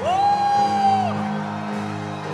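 A congregation at a Hanukkah 2023 prophetic church gathering shouting for joy: one sustained loud whoop over a crowd's mixed cries, then a steady roar of voices fading slightly.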